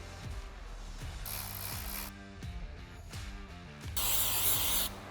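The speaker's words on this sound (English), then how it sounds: "using some brake clean, we will wipe the oil off the surface of the rotor" Brake cleaner hisses from an aerosol can onto a brake rotor in two sharp bursts, mixed with repeated ratcheting clicks from nearby tool work on a C8 Corvette Z06.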